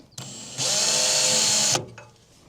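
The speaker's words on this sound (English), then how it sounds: "Now I'm just marking these with my drill bit." A power drill whirs steadily for about a second while marking hole spots with the bit on a camp canopy setup, with a brief lighter motor burst before it and a quiet tail after.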